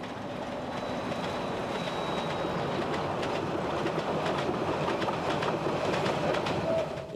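Narrow gauge freight train on the Ybbstalbahn in Austria, a steady close rumble of wheels and cars rolling along the rails with faint clicking and a brief squeal, continuous throughout.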